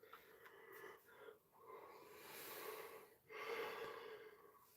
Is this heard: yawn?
yes